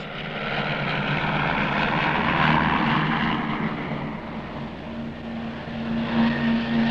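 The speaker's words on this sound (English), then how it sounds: "12 pilots took part in the King's Cup final, 6 laps of the circuit with everything depending on how tightly they could cut the corners." Propeller aircraft racing over six laps of the King's Cup air race circuit, with an American-built Cessna among the field: a loud, continuous engine drone that swells and eases slightly, with a steady droning tone toward the end and no talk.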